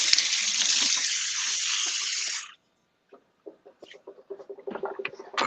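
Water pours steadily from a tap onto wet vegetables for meal prep, a close, rushing splash for a couple of seconds that stops abruptly, followed by faint clicks and handling noises.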